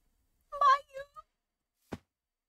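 A Minecraft cat gives a clear, close meow with a drawn-out, wavering tone, then a short trailing chirp, and a brief thump follows after a pause.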